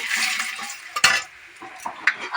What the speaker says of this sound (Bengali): লঙ্কাটা একটু কালো হয়ে গেলে তারপর দিয়ে দিচ্ছি এই যে তেজপাতা তেজপাতাগুলো এরকম আর্ধেক করে দিয়ে দিচ্ছি